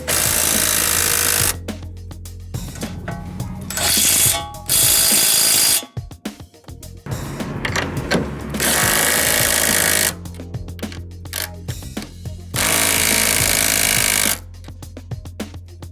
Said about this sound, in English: we got this tool here, and we're just gonna come around and we're gonna snug that down and lock it into place.